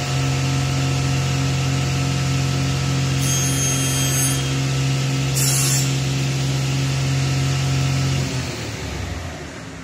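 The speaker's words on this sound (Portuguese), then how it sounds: "Liga a serra e depois o riscador." A precision panel saw runs with its scoring blade engaged, giving a loud, steady motor hum with a sustained tone and brief sharper bursts while cutting. The sound winds down and fades near the end.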